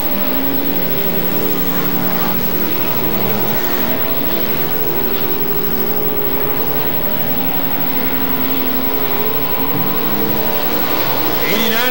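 Race cars lapping at Gallatin Speedway in a 2004 race produce a loud, unbroken roar of several engines close by, with the pitch rising and falling as cars pass and a voice faintly under the din.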